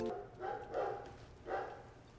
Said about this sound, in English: Is that a puppy I hear in the background?